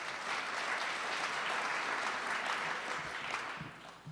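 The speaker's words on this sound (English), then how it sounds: "his words were met with a smattering of applause." A modest burst of audience clapping at a kickoff address, fairly even and sustained before tapering off toward the end, with no voices over it.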